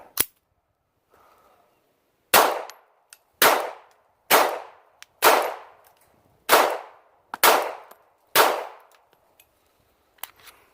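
A Bersa Firestorm .380 pistol fires Winchester flat nose white-box ammunition: one sharp shot, a pause, then seven loud, evenly spaced shots in a steady string, each with a ringing decay, and no talking.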